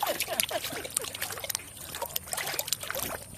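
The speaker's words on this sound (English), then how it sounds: "She's still drinking water." A big cat at a rescue sanctuary laps water, quick rhythmic wet splashing and slurping close by over a soft outdoor background, no voices.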